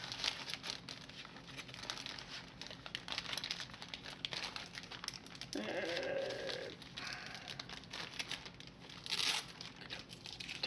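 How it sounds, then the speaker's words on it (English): A plastic bag of electronic receiver kit parts is opened, giving faint crinkling and rustling bursts in a quiet room, with one clearer crackle midway and a brief rustle near the end. "So we can open this bag up."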